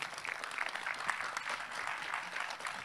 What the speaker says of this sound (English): Please let's give another warm applause to our speaker of the day